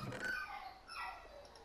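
A dog's whimpering, yipping bark in a room, fairly faint, heard beneath and between overlapping voices.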